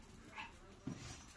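A Shih Tzu puppy whimpers and yips in short, close, high-pitched bursts over light background hiss.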